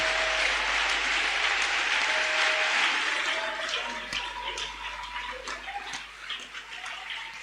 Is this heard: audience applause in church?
yes